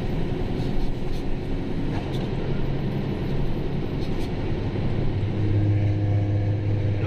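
A car engine rumbles steadily with a low, throaty exhaust note from an exhaust under the brake lights, on the Trans-Sumatra central road, growing deeper and louder toward the end.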